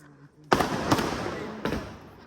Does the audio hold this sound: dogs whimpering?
no